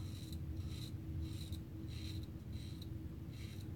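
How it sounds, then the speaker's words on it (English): A Carol Wright Dr. Leonard razor scrapes across stubble in a live shave, close and fairly quiet, with short rasping strokes recurring roughly every half second over a steady low background hum. "as I'm shaving with this Carol Wright Dr. Leonard razor, the performance is just okay."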